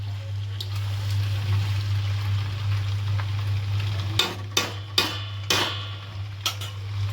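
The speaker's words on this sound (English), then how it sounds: "I am mixing it well" Pasta stirred in a hot pan, a steady sizzle with a low hum underneath, then several sharp scrapes and knocks of the utensil against the pan near the end.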